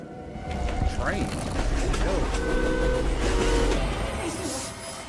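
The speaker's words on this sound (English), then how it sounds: "Train." A train in a video game passes with a steady, heavy low rumble and mechanical clatter that swell and hold across the clip, while people talk over it.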